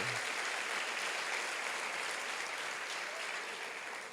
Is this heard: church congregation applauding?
yes